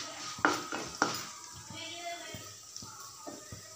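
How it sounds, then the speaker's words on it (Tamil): Mustard seeds, urad dal, chana dal and a dried chili crackle and sizzle in hot oil, with a few sharp pops and stirring clinks from the pan. "எண்ணெய் சூடாகுது, அதில் கொஞ்சம் கடுகு, உளுத்தம்பருப்பு, கடலைப்பருப்பு, ஒரு காஞ்ச மிளகாய். இது நல்லா பொரியட்டும்."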